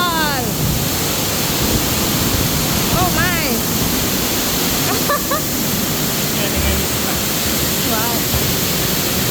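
Loud, steady roar of a waterfall at Bird Paradise fills the whole scene, a constant rushing wash with birds chirping faintly over it and a woman and child exclaiming nearby.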